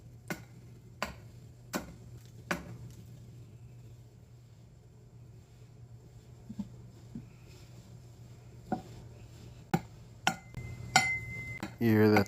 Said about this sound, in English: You hear that sound? That's why I use smashing axes together to tell people that dinner's ready.